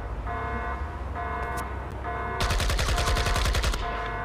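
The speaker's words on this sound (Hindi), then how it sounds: "फायर एक्चुअली में हो रहा कहां से है मुझे कुछ समझ नहीं आ रही" Gunfire in the shooter game IGI, a loud rapid burst of automatic shots that cuts in after steady tonal game sounds, close and continuous, with no one talking.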